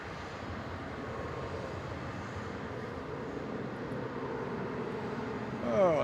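A 9.5-year-old Scoot Boeing 787 Dreamliner landing at Melbourne Airport gives a continuous low jet rumble that holds steady, then swells briefly louder near the end.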